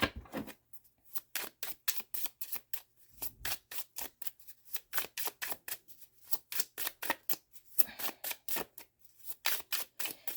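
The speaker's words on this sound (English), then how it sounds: "I am going to give it a good shuffle though" Tarot cards shuffled by hand in a steady run of crisp, rapid flicks and riffles, close and fairly loud, with short pauses between bursts and no voices.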